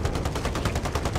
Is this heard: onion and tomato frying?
no